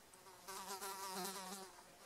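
Fly buzzing close by in a short droning whine that swells and then fades, heard alone in a quiet room during card making.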